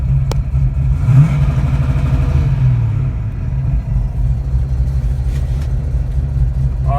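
A car engine fitted with an MSD 6AL ignition rumbles loudly and close while held against a 3-step rev limiter, a steady low growl with slight waver and no clear talk.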